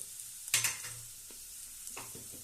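Egg rice frying in a pan makes a close sizzle with sharp stirring scrapes, one loud burst near the start and another smaller one later, with no talking.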